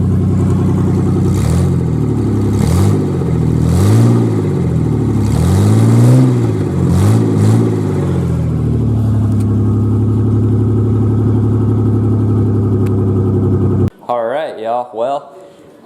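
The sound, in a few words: Ford Ranger 4.0 engine revving with open headers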